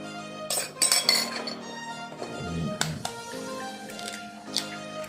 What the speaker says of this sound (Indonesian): Kocok dulu. Kocok dulu telur.